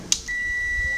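An electronic buzzer, tested by closing a switch contact, sounds close up as a single sustained high-pitched tone after a brief click.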